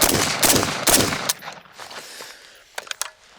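FN FNC rifle firing 5.56 77-grain rounds, a burst of about four loud, close shots in the first second and a half, then quieter reverberation with a couple of sharp clicks near the end.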